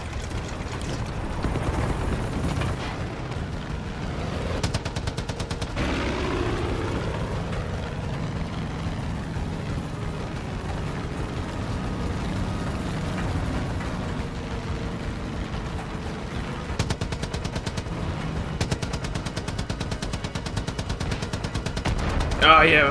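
Far Cry 5 gameplay: a helicopter fires missiles amid continuous rapid gunfire, dense crackling bursts and mechanical rumble running loudly throughout, with a few heavier blasts near the end.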